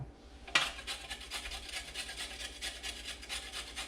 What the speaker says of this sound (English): cheese grate them